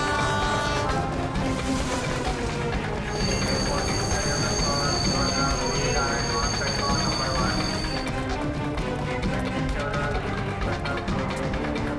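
A train rolls steadily along rails in a tense television crime-drama scene, its loud continuous rumble and wheel noise carrying throughout, with voices talking over it.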